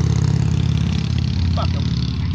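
A nearby car engine holds a steady, loud mid-pitched drone that barely rises or falls, more an idle than a clear rev, running alone for the whole stretch.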